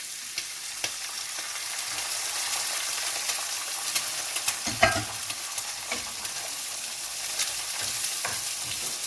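Eggs and shrimp are stirred together in a sizzling pan for scrambled eggs, with a steady frying hiss and scattered scraping clicks of the utensil and one louder knock near the middle.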